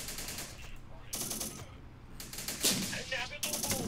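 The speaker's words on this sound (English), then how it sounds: "it's still putting up some pretty good firepower, and even our engineers are returning fire on the enemy infantry" Gunfire from a BMP-1 and infantry in Syrian Warfare, repeated bursts of automatic fire in several rapid volleys, loud and close, with sharp cracks between bursts.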